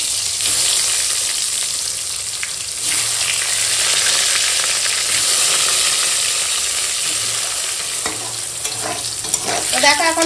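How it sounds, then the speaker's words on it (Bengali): Pointed gourd (potol) fries in hot oil in a kadai, giving a steady close sizzle with scraping stirs, busier spatter near the end. "এখন এই তেলের কড়াতেই পটলটা ভেজে নেবো"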